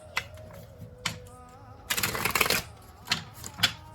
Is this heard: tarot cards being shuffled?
yes